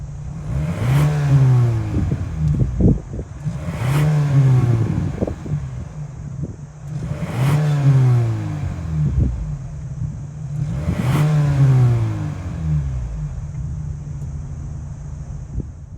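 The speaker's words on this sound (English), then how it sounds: "since we got that sporty looking dual exhaust, let's see how this Corsair sounds." A 2023 Lincoln Corsair Reserve with a 2-liter EcoBoost engine revs through its dual exhaust in four repeated bursts, each climbing sharply and falling back to a steady idle rumble, close and loud with no talking.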